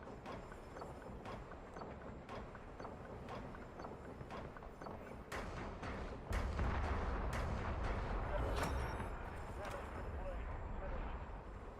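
Gunfire from the Call of Duty Warzone video game crackles as a steady barrage of repeated shots through most of the clip, growing louder and heavier midway, with game voices and background talk mixed in.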